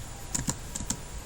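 A short word typed on a computer keyboard: four quick, light key clicks, close and alone over faint room hiss.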